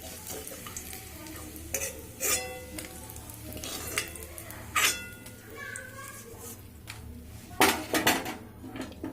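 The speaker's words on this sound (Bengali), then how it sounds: "এবার আমি একটি পাত্রে তুলে নেব" Fried bitter gourd lifted from hot oil into a bowl in a home kitchen, with intermittent metal spatula scrapes and clinks against the pan over a low sizzle, a few sharp strikes standing out, with speech in the background.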